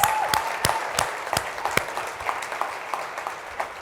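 A small audience at a State of the City address applauds the city planning department, scattered individual claps over a soft wash of clapping that thins out toward the end.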